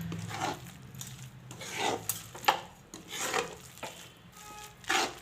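Spoon stirring karanji filling of jaggery with nutmeg and cardamom powder in a pan, a run of soft scraping and rubbing strokes in an uneven rhythm, close and fairly quiet with no talk.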